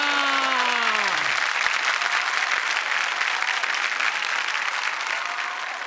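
Loud, sustained studio audience applause fills a Marathi comedy show stage as a couple is welcomed, steady dense clapping from start to finish after a brief fading musical sting.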